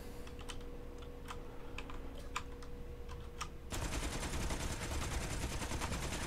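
Gatling guns fire in the game Space Engineers: scattered sharp ticks at first, then a dense, continuous rattling burst takes over for the last few seconds.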